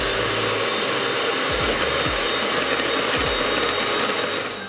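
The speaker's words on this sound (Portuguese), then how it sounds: "A gente vai usar a nossa batedeira, bater até esfriar e dobrar de tamanho." An electric stand mixer whips pistachio tiramisu cream, a loud, steady motor whine that runs continuously at close range, with a few low knocks as the bowl and beater shift.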